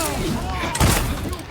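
Pirate hero's pistols attack in the video game For Honor, a burst of gunfire near the midpoint over a continuous busy game mix, with speech-like sound running underneath.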